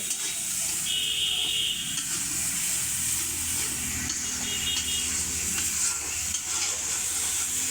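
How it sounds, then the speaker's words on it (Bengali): Spice paste for mustard hilsa curry being stirred and fried in a pan, a steady close sizzle with scraping stir strokes running throughout, no voices. "একদম মশলাটা কষিয়ে নিচ্ছি এখনও কষাচ্ছি মশলাটা তো ভালোভাবে কষিয়ে নিতে হবে"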